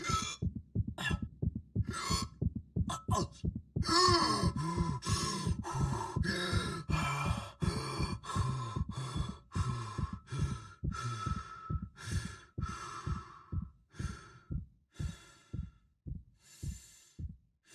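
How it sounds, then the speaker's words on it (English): Heavy, ragged breathing of a male character recovering from oxygen loss in the Dead Space remake, a long run of deep gasping inhales and exhales that gradually slow and grow quieter toward the end. "you can expect to hear Isaac catch his breath as he recovers from a lack of oxygen"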